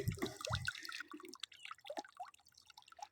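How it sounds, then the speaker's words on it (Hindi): Water is run onto a sesame field to flood it, heard as quiet close dripping and trickling with small splashes, faint and irregular with no voices. "ये पानी लगा रहे हैं"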